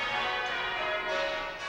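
Church bells at Christchurch rung by a team of bell ringers, a continuous dense ringing of overlapping tones that steps down the scale, close and loud with no talking.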